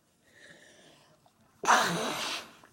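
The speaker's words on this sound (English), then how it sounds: "I'm about to sneeze." Soft breathy sounds build up, then a single loud, close sneeze bursts out and trails off.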